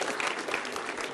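A studio audience at a Hindi political debate show breaks into dense, steady applause, a brief burst of many hands clapping at once, fairly loud and with no talk over it.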